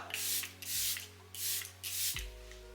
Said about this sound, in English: Setting again with the Charlotte Tilbury Airbrush Setting Spray, but not as much.